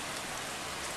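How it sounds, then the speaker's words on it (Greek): Heavy rain from tropical storm Earl pours down in Mexico, a dense steady hiss of drops on surfaces with no voices. "Οι ισχυρές βροχοπτώσεις συνεχίζονται και προκαλούν προβλήματα στις επιχειρήσεις διάσωσης και τις συγκοινωνίες."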